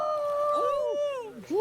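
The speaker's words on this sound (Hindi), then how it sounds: "सियार छे रो सियार" A jackal lets out a drawn-out, wavering howl that slides downward, breaks briefly, then rises again, loud and close with no other sounds over it.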